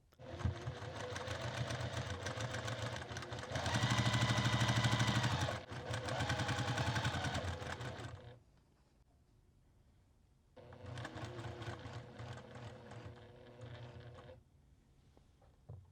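Sewing machine stitching quilt fabric diamonds for a six-point star table topper, running in steady bursts of rapid stitching with brief pauses, loud and close with no voices.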